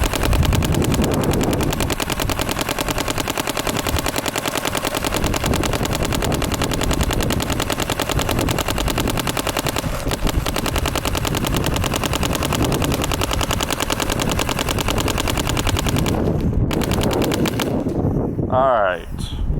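Planet Eclipse paintball marker, a CS2 or CS3, fired in a long, steady stream of rapid shots at close range that keeps going for most of the stretch before breaking off near the end.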